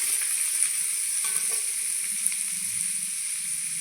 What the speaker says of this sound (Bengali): মূলো আর আলু দিয়ে দিয়েছি, একটু ভেজে নেব।